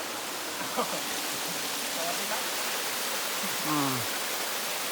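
Steady broadband rush of a large waterfall, Ari Doi falls at Pha Nok Khao, running continuously close by, with brief voiced sounds over it.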